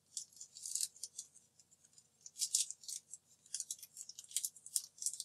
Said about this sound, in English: I'm going to take more duct tape, and I'm going to seal all the way around the straw